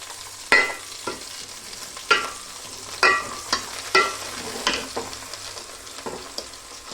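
Vegetable pieces for pappu charu fry in a hot pan with a continuous low sizzle, punctuated by a series of sharp, rhythmic scrapes and clacks as a spoon stirs them about every second.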